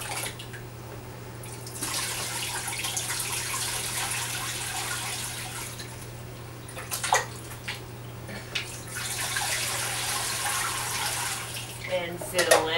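Water poured through a colander into a 10 gallon fish tank, a steady broad rush that runs for most of the stretch with a few brief splashes and clinks, fairly close.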